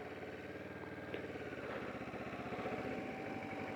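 A 2011 Kawasaki Versys motorcycle engine runs at a steady, fairly loud mechanical drone with a rhythmic pulsing beat, close to the listener and with no talking.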